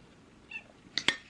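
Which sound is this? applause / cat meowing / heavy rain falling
cat meowing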